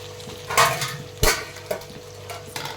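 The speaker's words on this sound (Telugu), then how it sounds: "ఇందులోని కడిగి ఉంచుకున్న చింతపండును కూడా వేసి కలిపెట్టాలండి" A spoon scrapes and knocks around a pan as washed tamarind is stirred into simmering cucumber and tomato chutney, a few distinct clanks and sloshing stirs over a faint sizzle, close and without voices.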